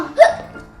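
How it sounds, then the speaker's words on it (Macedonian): A child gives a single sharp hiccup, close and clear, with faint indoor background and no talk. "Как почнав да икам мамо?"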